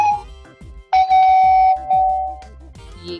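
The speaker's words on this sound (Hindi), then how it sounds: "ये तो घंटी की, घर की घंटी की आवाज है।" A doorbell rings with a bright, sustained electronic chime, followed by a softer second tone, against a faint repeating background rhythm.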